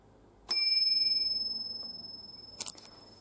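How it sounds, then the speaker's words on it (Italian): A small carillon bell tuned to D6 in a bell tower is struck once, giving a bright, clear ring that sustains and slowly fades, followed by a couple of quick metallic knocks near the end. "Dalla parte opposta rispetto a questa campana abbiamo la settima, che è Re 6."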